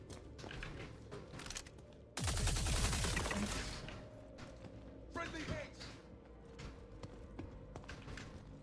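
Video game gunfire in Star Citizen, with a loud burst of rapid automatic shots followed by scattered clacking shots and mechanical noises, mixed with faint talking.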